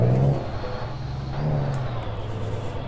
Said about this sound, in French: je vais juste vous faire écouter le son du camion.